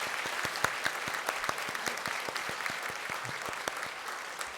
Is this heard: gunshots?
no